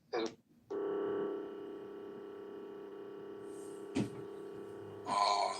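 A steady electronic phone tone sits over faint background hum, broken briefly by a short click and ending in a brighter burst; no one speaks.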